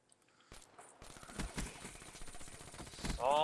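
Rapid video game gunfire crackles in bursts of sharp, close shots rattling out over several seconds, with a voice briefly breaking in near the end.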